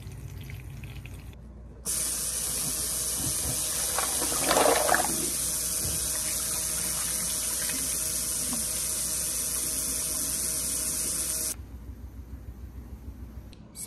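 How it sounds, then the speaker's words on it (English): Water runs steadily from an under-sink reverse osmosis faucet as a constant broadband hiss for about ten seconds, starting and stopping abruptly, with quieter room noise before and after. "I use filtered water from this under sink reverse osmosis system"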